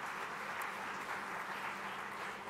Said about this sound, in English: please give a round of applause for our Chief Minister